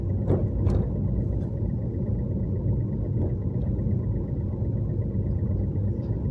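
A car is driven slowly during a driving lesson, giving a low, steady engine rumble from inside the cabin with a couple of faint clicks near the start.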